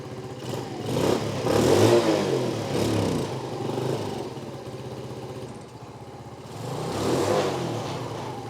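A small Sym Symba motorcycle engine idles while warming up after a cold start, a continuous close putter that swells in two revs before settling back to a rough, steady idle.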